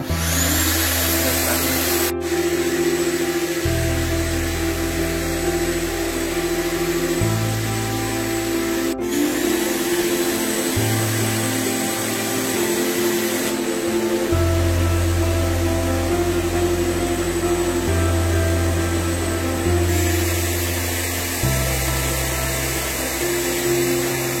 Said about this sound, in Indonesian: kita mulai tekan tombol yang ada tulisan vakum ya